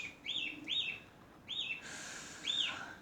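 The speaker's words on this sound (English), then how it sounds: "My bird is screaming" A pet bird screams and chirps indoors in a series of four sharp, high, repeated calls spaced about a second apart, close and clear over a quiet room.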